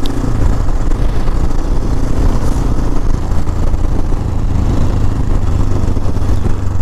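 A motorcycle engine drones steadily while riding along a road on a trip toward Transylvania, a dense, constant rumble mixed with wind noise and no talking.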